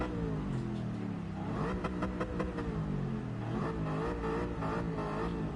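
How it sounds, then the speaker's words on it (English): A car engine in Gran Turismo 7 revs hard and loud throughout, its pitch rising and falling in repeated surges with a sustained, throaty roar and no talking over it. "why I'm revving the engine when that does use more fuel"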